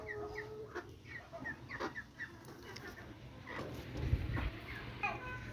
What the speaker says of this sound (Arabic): الفراخ بقى الكبيرة اللي برا دي، ودي الفراخ اللي لسه على وش بيض صغيرة لسه